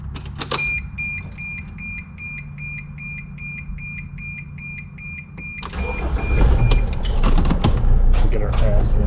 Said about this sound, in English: It's going to be a short van ride